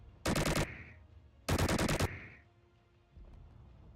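A video-game MG42 machine gun loaded with 1,000 rounds, firing two loud, rapid bursts of about half a second each with short reverberant tails, separated by a pause.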